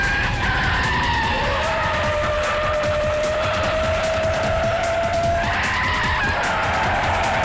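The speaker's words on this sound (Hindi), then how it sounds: "गाड़ी घुमाओ पंकज, जल्दी।" A car swings around with its tires skidding, giving a loud, sustained screech that rises and falls over several seconds above a rumbling engine.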